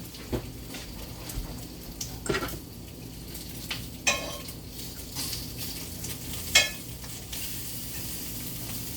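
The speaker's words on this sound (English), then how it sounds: "I think I'm burning my bacon." Soft crackle of bacon frying in a pan with scattered pops and occasional utensil clinks, fairly quiet and close, no voices.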